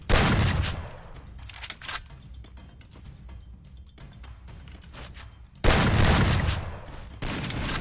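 Free Fire mobile game gunfire comes as loud bursts of rapid shots at the start and again near the end. A quieter stretch of game sounds lies between the bursts.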